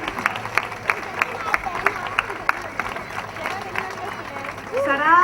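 Rhythmic clapping from a crowd, steady individual claps ringing out in a room, with murmuring voices rising at the end.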